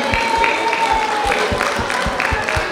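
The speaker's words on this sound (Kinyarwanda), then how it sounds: "Icyo mushatse mwagiha amashyi kuko nta cyaha kirimo." Applause from a gathered audience at an event, a sustained wash of many hands clapping with a rhythmic beat underneath and a voice speaking over it.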